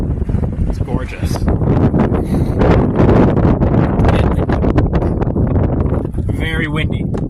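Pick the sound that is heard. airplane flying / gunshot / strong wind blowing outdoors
strong wind blowing outdoors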